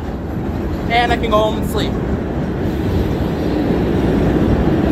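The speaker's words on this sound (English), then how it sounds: "Just made the LF train." Low rumble of the LF commuter train near South Station, a steady broadband roar throughout with a brief squeal early on, while someone speaks over it.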